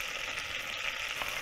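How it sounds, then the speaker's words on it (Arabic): Butter and oil frying in a pan for béchamel as flour is stirred in quickly, giving a steady, close, continuous sizzle with faint scraping throughout and no voices. "ونحرك بسرعة."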